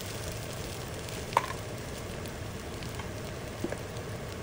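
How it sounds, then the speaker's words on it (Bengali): Boiled potatoes being stirred into a spiced masala frying in a pan, giving a steady soft sizzle with a couple of faint scraping knocks from the spoon. "এরপরে আমি সিদ্ধ করে রাখা আলুগুলো দিয়ে খুব ভালোভাবে এপিট করে আমি নাড়ানাড়ি করে নিলাম।"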